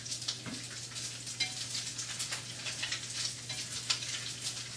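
Bacon for carbonara frying in a pan, a constant fine crackle and spitting fat at moderate volume, steady and uninterrupted with no voices.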